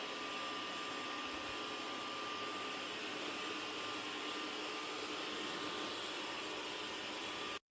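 A MOVA Z50 Ultra robot vacuum cleaner runs steadily on the floor with a constant, fairly loud whirring hiss and a faint tonal whine, unbroken for several seconds before cutting off abruptly.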